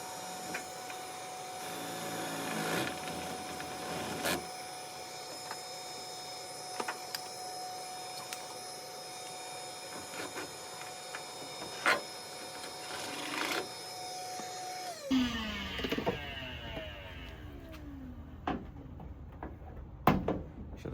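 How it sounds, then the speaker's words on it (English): A 3/8 drill bit bores a hole through a Ford Transit van body for a 12V air conditioner install, giving a steady whirring grind for about fifteen seconds before it stops, followed by scattered clicks and clatter. "I'm going to drill a hole for the positive and negative right around here"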